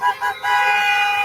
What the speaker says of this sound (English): Cars and trucks honking.